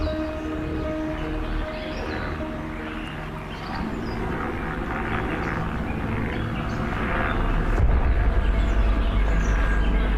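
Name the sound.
helicopter flying overhead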